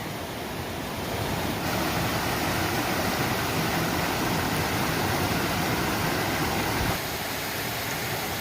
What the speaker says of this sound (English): But we made it to Red Creek Falls.